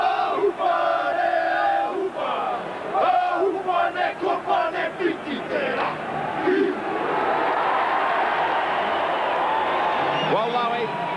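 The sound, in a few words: New Zealand Kiwis performing the haka before a rugby league test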